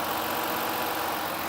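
A car engine idles steadily right after new spark plugs and ignition coils were fitted, a smooth continuous hum with no audible misfires, heard alone for a moment without talk.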